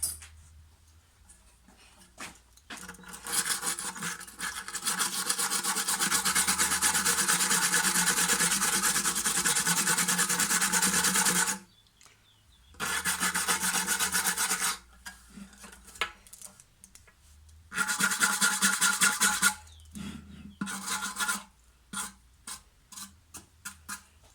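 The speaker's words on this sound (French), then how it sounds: "Je vais passer un coup de brosse métallique derrière." A wire brush scrubs the gasket surface of a Briggs carburetor, giving close, harsh, continuous rasping strokes in several long bursts with quiet gaps and small metallic clinks between them.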